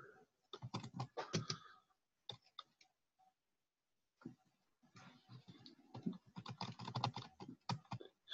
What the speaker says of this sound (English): I'm going to click and I'm going to type